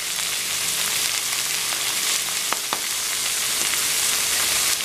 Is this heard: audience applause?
no